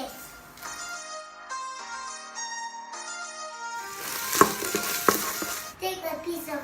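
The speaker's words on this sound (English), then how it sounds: "Once onions have softened, add sardine." A pan of sardine and onion filling sizzles and is stirred, starting under a soft melodic background and then turning into a louder, bright frying hiss with a few sharp scrapes of a utensil.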